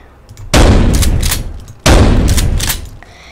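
Two heavy gunshot bursts in the video game Paint the Town Red, each a loud sharp blast with a ringing tail, about a second apart and heard alone.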